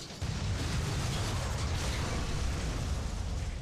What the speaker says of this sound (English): that was a very spherical explosion